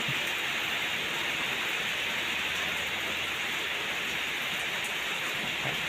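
Steady heavy rain from Typhoon Noru hissing continuously, a dense even patter with no pauses.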